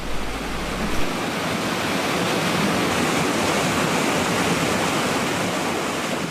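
Winter river flowing on the Wessex River beat, a steady, dense rush of water that holds an even level throughout, close and continuous with no voices.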